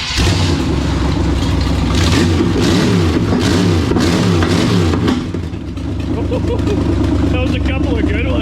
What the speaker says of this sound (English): fire it up and rev it